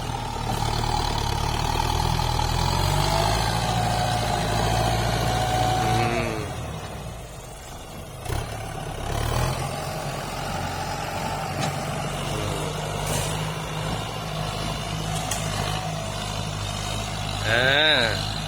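Kubota M9540 tractor pushing soil, its engine droning steadily and loudly throughout, with a heavier labored stretch early on that eases after a few seconds, then a rougher, uneven rumble with occasional clanks.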